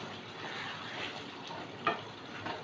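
Pointed gourd frying in a pan for Bengali doi potol, a soft steady sizzle with a brief stir or clink near the end, faint and without talk.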